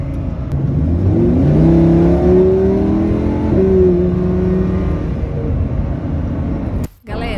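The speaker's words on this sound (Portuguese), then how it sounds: "vocês queiram ouvir realmente o ronco aí, o barulho do carro" Rented sports car driven in Dubai, its engine roaring and revving as it accelerates, with rising and falling tones under a continuous loud rumble, heard from inside the cabin before a brief cutoff near the end.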